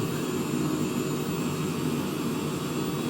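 Aircraft engines drone steadily during a climb with the throttles pulled back slightly and the flaps up, a continuous broadband roar heard from inside the cockpit with no talk.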